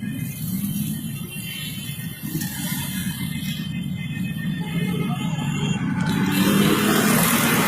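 Heavy road traffic on a blocked road in Karachi hums as a steady engine rumble, with vehicles idling and revving nearby and a horn-like tone rising near the end.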